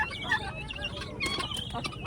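Chickens cluck and squawk nearby at the Muktsar horse fair, several birds calling at once in busy overlapping bursts.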